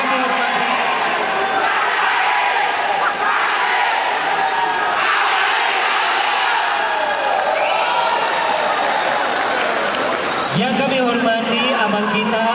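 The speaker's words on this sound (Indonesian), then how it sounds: "Beri tepuk tangan yang meriah." A crowd at an Indonesian Forkabi community anniversary gathering claps loudly and steadily throughout, mixed with cheering, while an announcer speaks over a PA system.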